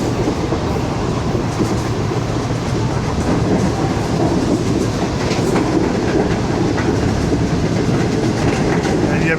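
The New Shalimar Express, running from Lahore to Multan, rolls along the rails with a loud, steady rumble and rhythmic clickety-clack of wheels heard close from aboard as it gathers speed.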